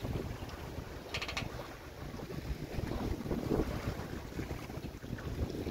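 A sailboat under way at night in the open western Indian Ocean, with steady wind buffeting and rushing water along the hull, a constant close roar of wind noise and waves broken by a few brief higher clinks.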